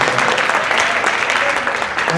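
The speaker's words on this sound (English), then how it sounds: "Clap if you were there." A church congregation claps during an Advent service, a loud, close wash of many hands clapping at once, sustained and even for a couple of seconds with a voice faintly mixed in.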